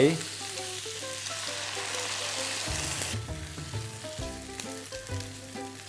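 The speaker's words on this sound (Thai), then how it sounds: "ข้าวโพด ถั่วลันเตา กุ้งกับหมูก็กลับลงไปได้เลยครับ คลุกเคล้าส่วนประกอบนิดนึงนะครับ" Corn, peas, shrimp and pork stir-fried together in a hot pan for Nagasaki sara udon, a dense continuous sizzle with stirring clatter, close, without speech.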